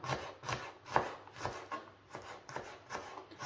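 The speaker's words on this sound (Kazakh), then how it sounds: "Чеснокты да тура осылай әрлеу етіп," Rapid knife chopping of garlic on a cutting board, a quick series of close, light taps with a steady rhythm and no voices.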